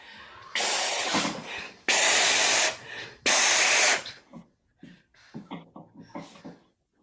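Air blown through a flute without producing a note during a masterclass, three long loud breathy hisses of about a second each followed by shorter, fainter puffs and breaths.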